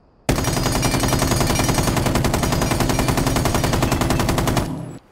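Capitão's M249 light machine gun fitted with a flash hider fires one long unbroken burst in Rainbow Six Siege, rapid, loud and close, with no talking over it, then stops abruptly.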